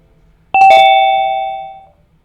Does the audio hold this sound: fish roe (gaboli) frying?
no